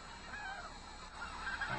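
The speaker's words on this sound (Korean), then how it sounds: "북쪽에서부터 날아오는 겨울 철새들이야." Winter migratory geese honking in a dense, continuous chorus, a flock calling together at moderate distance with no talk.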